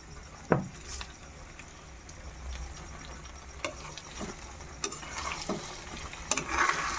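Chicken pieces being stirred and mixed with ginger-garlic paste and fenugreek seeds, a soft, quiet wet churning with a faint sizzle beneath and a few sharper clinks scattered through, no talking.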